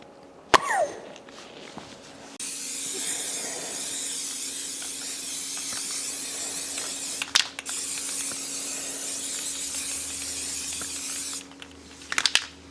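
A spray can coats a piece of plywood black in long hissing bursts, one near start-up sputter followed by sustained sprays with brief pauses and short clicks, close and steady.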